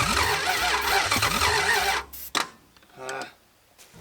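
Old Dodge Charger engine cranking on the starter with a loud grinding, rhythmic whir for about two seconds, then stopping, followed by faint clicks and a short voice.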